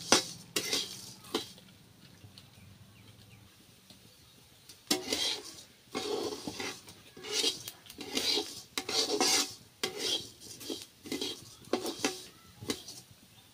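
Urad dal being dry-roasted in a pan, stirred with a metal utensil in a home Assamese kitchen: irregular scraping and rattling strokes, close and alone, quieter at first and then in repeated bursts.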